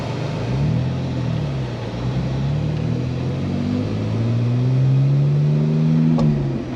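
A BMW E46 engine revs up and down in waves, its mid-range drone rising and falling in pitch over several seconds, loud and close with no speech.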